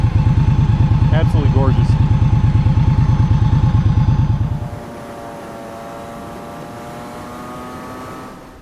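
An 1100 cc Indian Scout motorcycle engine idles close up with a rapid, throbbing pulse for about four and a half seconds, then is killed and falls silent, leaving quiet outdoor ambience while someone speaks briefly over the running engine.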